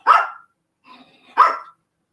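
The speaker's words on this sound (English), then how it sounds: "he barks at like everything" Small golden doodle dog barking: two sharp, loud barks about a second apart with a quieter whine-like sound between them, close to the listener and with no talking.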